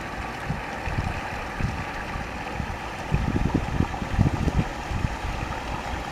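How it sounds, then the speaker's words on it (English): Wind gusting outdoors at a scrap metal yard, a steady rushing roar with buffeting bursts against the microphone that swell louder midway, with no talk. "The wind's picking up a little."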